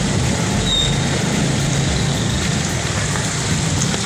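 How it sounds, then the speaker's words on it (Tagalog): Heavy rain pours down on a city street during a storm, a loud, steady hiss of drops on surfaces with faint traffic beneath. "kaya lang maulan lang talaga malakas"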